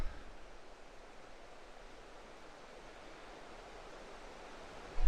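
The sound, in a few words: Rainbow Falls waterfall, white water washing over rocks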